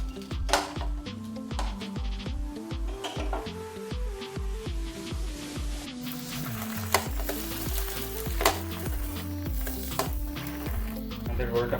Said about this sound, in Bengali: আমাদের রোলটা প্রায় কমপ্লিটের মধ্যে ভাজা